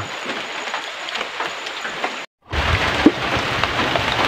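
Steady rain hisses down across the whole stretch, briefly cutting out for a moment before resuming just as heavy.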